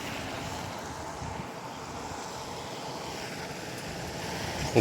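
Steady broadband rushing of canal water flowing, continuous and fairly close, with no voices.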